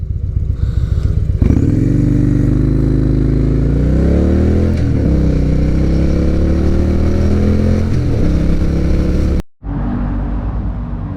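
Victory Gunner motorcycle engine on a test ride, loud and close, revving up through several gears with rising and falling pitch, then a brief cut to a steady engine note.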